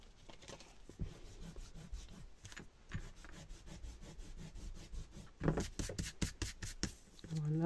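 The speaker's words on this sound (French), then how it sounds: "On va, du coup, gommer un peu ces traits-là." Eraser rubbing out pencil lines on a scrapbooking paper page, a close, scratchy back-and-forth rubbing in short bursts, growing denser and louder toward the end.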